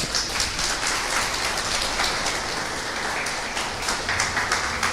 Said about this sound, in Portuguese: Você não aplaude ele,